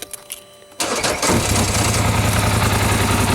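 A vehicle engine with the park brake set cranks and catches with a sudden loud burst, then settles into a steady, rumbling idle close to the microphone.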